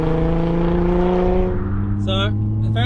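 Nissan R35 GT-R with its 3.8-litre twin-turbo VR38 V6 drones steadily and loud at close range, the harmonic note easing off after the first half, while voices cut in briefly near the end.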